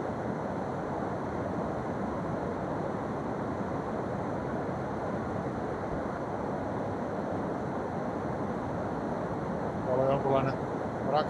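Steady rushing roar of river rapids at Kiutaköngäs in Kuusamo, Finland, filling the background, with a voice briefly speaking near the end.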